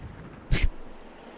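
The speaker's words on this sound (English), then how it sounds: "It needed an explosion." A single short, bright burst with a low thump goes off during a cutscene in The Wind Waker, sharp and brief over quiet ambience, followed by a faint high click.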